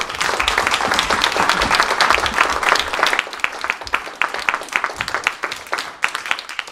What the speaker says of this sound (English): Yeah, let's give a round of applause for